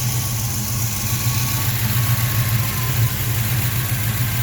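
A 1979 Chevrolet Scottsdale pickup engine idles steadily through a new exhaust with a deep, throaty rumble, close and loud, holding an even tone throughout with no voices.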